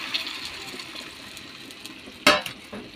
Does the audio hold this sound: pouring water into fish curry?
yes